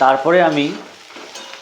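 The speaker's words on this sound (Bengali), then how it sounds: "10 মিনিট ধরে উচ্ছেগুলোকে খুব ভালো করে ভেজে নেব।" Bitter gourd with salt and turmeric frying and being stirred in a pan, a loud sizzle that fades to a softer hiss, with a brief voice at the start.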